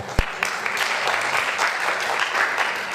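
Audience applause at a lecture by Lawrence Wilkerson, a steady wash of many hands clapping close by, opening with one sharp loud clap and continuing evenly throughout.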